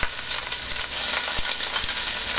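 Shrimp sizzle and crackle steadily in hot cooking oil for a pancit bihon dish, a close, continuous bright frying hiss with small pops throughout and no voices.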